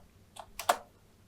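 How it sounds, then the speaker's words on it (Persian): A few quick, quiet keystrokes on a computer keyboard, three soft clicks in close succession with the last one slightly louder, set against a low background hum. "اگر من تایپ کنم ماتریکس دات"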